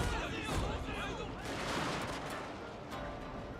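Cannon artillery fires during a Total War: Shogun 2 battle. Dense, overlapping booms and crackling volleys form a continuous loud din, and someone speaks French over the gunfire.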